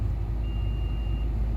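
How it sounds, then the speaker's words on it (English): A Mazda CX-5 2.2 TD Sport Nav's reverse parking sensor gives one steady, high electronic beep lasting under a second, over a low, constant cabin and engine rumble. "you might have heard the beep, you've got the beeps as well"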